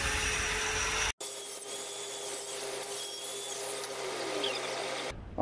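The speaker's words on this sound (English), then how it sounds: "You're linishing, you switched to a 5-inch grinder, was that a flap disc?" A 5-inch angle grinder fitted with a linishing flap disc polishes the top of a large steel anvil, a steady close whirring rub with a brief cut-out near the start and no talk.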